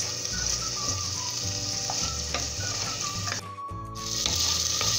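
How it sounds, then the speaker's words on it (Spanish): Ají chili peppers frying in a pan for Peruvian olluquito con carne, a steady close sizzle with occasional clinks and stirring. "vamos a freír muy bien estos ajíes"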